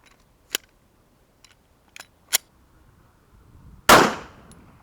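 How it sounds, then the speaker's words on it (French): A bullet fired at 5 metres through a utility van windshield inclined at 85 degrees, one sharp loud crack with a short burst of glass noise, preceded by a few faint clicks, no talk. "premier impact, 5 mètres, la balle est passée comme dans du beurre"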